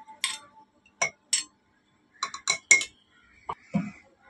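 A metal lid comes off a cooking pot of meat for Lucknowi khichda, giving a series of sharp, close metallic clinks and taps spaced irregularly, with short scraping touches between them in an otherwise quiet kitchen.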